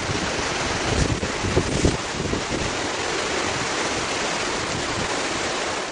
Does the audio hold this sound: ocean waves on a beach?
yes